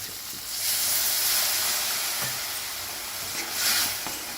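Dal simmering in a home kitchen pot with a steady steamy hiss and soft bubbling, swelling louder twice as the boil surges, with no voices.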